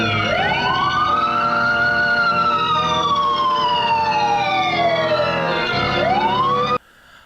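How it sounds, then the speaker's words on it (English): An emergency siren wails loudly and continuously, its tone sweeping slowly up and down, then cuts off abruptly. "Ambulance."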